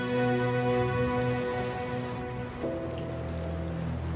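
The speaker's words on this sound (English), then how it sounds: "by mid-morning, torrential rain was filling the freshly dug grave" Torrential mid-morning rain pours over a freshly dug grave in New Zealand, a steady, loud hiss of drops on surfaces that runs unbroken under a sustained tonal music bed.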